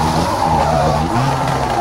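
A rally car in WRC 3 at the 2012 Rallye Monte-Carlo sliding on the handbrake through a hairpin, a loud, steady tyre skid over engine roar, with no voices.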